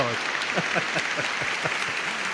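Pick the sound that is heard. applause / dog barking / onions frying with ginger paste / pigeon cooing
applause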